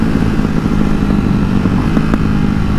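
A motorcycle engine drones steadily during a ride, a close, continuous low hum with faint ticks and no voices.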